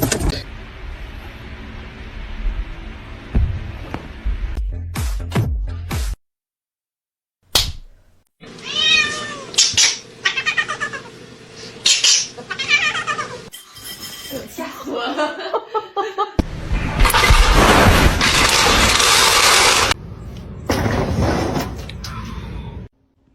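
A house cat meows several times amid household clatter, door sliding sounds and bursts of loud noise, with people talking and chuckling throughout.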